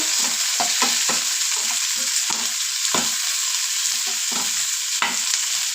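Chillies and tomato frying in a pan for a South Indian chicken sambar, a constant loud sizzle broken by repeated spatula scrapes and stirs.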